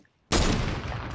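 Sniper rifle shot in a Minecraft-style video game, a single sudden loud blast after near silence, followed by a broad rumbling decay.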